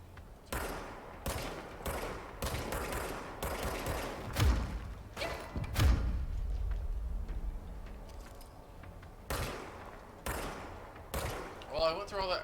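Repeated gunshots ring out in a PS4 first-person shooter game, sharp bursts firing in irregular clusters with short pauses between, loud and close, with a voice talking in the background.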